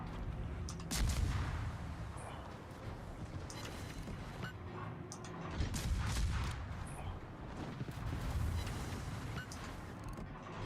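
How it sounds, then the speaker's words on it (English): Sustained enemy gunfire in a naval combat video game, a dense fusillade of overlapping shots and booms rolling on steadily, with heavier bursts swelling at intervals. "Because I've got these suckers firing at me."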